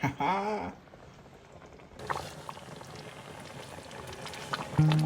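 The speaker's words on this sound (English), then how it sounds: "We're gonna let this boil" Smoked curry lamb bubbling in a pot, a close steady simmer with crackling bursts, preceded by a brief voice and punctuated by a louder clatter near the end.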